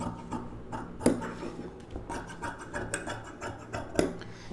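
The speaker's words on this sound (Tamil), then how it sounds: "இது வந்து ஸ்ட்ரைட்டாக கட் பண்ணிவிடுங்க" Scissors cut straight through blouse fabric while shaping a back piece, producing soft repeated rasping snips at close range with a few sharper clicks of the blades, alone and without talk.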